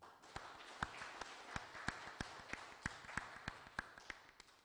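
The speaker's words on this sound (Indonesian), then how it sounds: "Tepuk tangan untuk kita semua." Faint, distant claps close a Scout movement regional work meeting in Bali: sharp hand strikes in an even, regular rhythm of roughly three per second, over a low background hiss.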